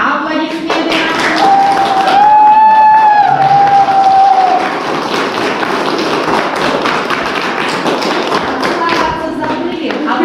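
Wedding guests at a registry office applauding the newlyweds, a close, busy patter of clapping mixed with thumps, cheering and crowd chatter, with a sustained musical tone running through the first half.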